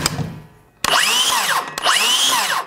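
A DeWalt cordless circular saw with a smaller blade cuts through a wooden board in two long passes, each starting with a sharp bite and rising into a loud, sustained whine. A quieter motor spin-down comes first.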